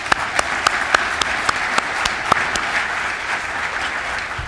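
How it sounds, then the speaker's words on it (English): Sustained applause from a convention audience at an annual bowling association meeting, a steady wash of many hands with a few sharper individual claps standing out, fairly close and full throughout. "So please give yourselves a round of applause."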